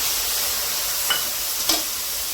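Ground coriander and Kashmiri chili powder sizzling in hot oil with cumin, a steady soft frying hiss with two brief stirring scrapes, close and moderately loud, no talk.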